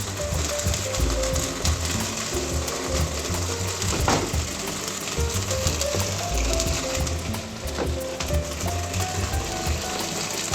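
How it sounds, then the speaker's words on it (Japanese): Meat hitting a hot pan for twice-cooked pork, seasoned with garlic, sizzling and crackling steadily for ten seconds, with a sharp burst of spitting partway through and no voices. "そしてお肉を入れていきます。"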